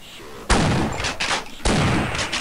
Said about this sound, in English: Shotgun to the face it is.